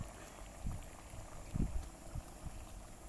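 Water bubbles softly in a pot, with a few low burbling pops over a faint steady background hiss.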